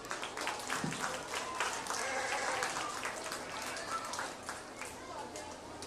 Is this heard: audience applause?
yes